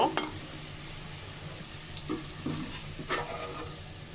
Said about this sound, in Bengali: পেঁয়াজটা বেরেস্তার কালার করে ভেজে নিব